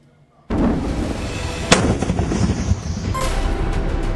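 A controlled detonation of a defused bomb in the Uri sector along the Kashmir border breaks out suddenly after a short quiet lead-in, then rolls on as a loud, sustained blast rumble with a sharp crack partway through.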